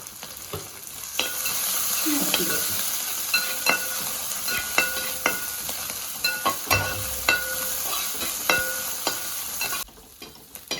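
Sliced garlic, chopped ginger and green chillies sizzle in hot oil in a pan for a Kerala chicken dish, a steady close hiss broken by regular scraping knocks of a spoon stirring, with no talk.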